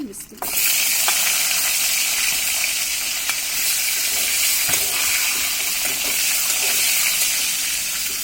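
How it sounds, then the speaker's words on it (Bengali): Eggplant pieces drop into hot oil in a pan, setting off a loud, sudden sizzle that stays steady and strong, with no talking. "এখন আমাদের যে বেগুনগুলো আছে সেটা এর মধ্যে দিয়ে দিচ্ছি।"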